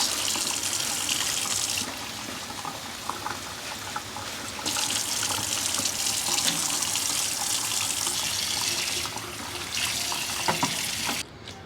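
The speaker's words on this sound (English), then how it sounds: "I'm gonna fill this up with water" Tap water runs steadily into a plastic bag being filled, a close, continuous hiss and splash with a couple of short breaks and faint crinkles as the bag shifts.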